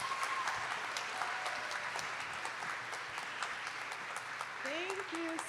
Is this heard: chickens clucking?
no